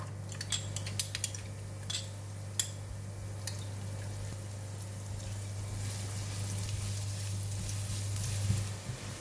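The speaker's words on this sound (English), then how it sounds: "now I'm going to fry the garlic" Garlic frying in a little oil in a pan for Chinese sausage fried rice: a steady, close sizzle that slowly builds and thickens, with a few sharp utensil clinks near the start over a low hum.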